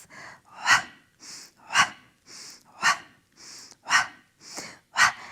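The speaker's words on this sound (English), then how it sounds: "Pump the breath." Rhythmic pumping breaths during a wall Pilates exercise, sharp forceful exhalations alternating with quicker inhales, about six strong pulses in steady rhythm, close and clear with no talk.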